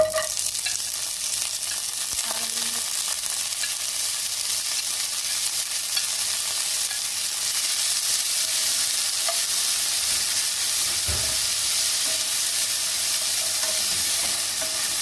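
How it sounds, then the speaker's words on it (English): Close, continuous sizzling of callaloo greens frying in hot oil, a steady crackling hiss with occasional soft stirring knocks. "we're still frying the callaloo"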